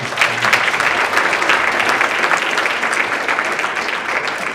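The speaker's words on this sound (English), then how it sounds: "So let's give them another round of applause." Audience applause for a student jazz band at an administrator-of-the-year event: dense, steady clapping from a large crowd, sustained loudly through the whole stretch with no talk over it.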